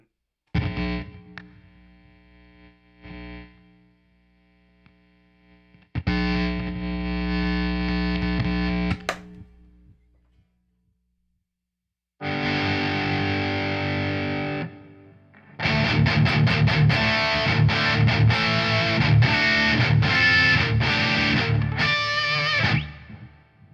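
Les Paul electric guitar played through the ToneStack PRO amp app with a clean boost, heard in separate bursts of sustained distorted chords and strummed passages, loud and close, with gaps of silence between phrases.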